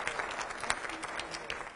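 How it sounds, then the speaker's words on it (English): A room audience at a session on intercultural understanding and difficult dialogues applauds, a continuous mix of many hands clapping at moderate loudness with a few sharper individual claps. "Applause"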